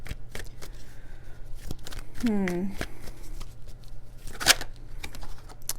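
Tarot cards are shuffled by hand, with rapid riffling flicks and crisp snaps of card edges up close, a brief ripple midway, and a voice speaking over the shuffling.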